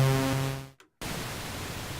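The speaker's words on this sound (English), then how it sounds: "white noise or pink noise, which you can turn on or off with that" Behringer Model D analogue synthesiser: a held tone fades out, a brief silence follows, then a steady hiss of white or pink noise switches on and continues evenly.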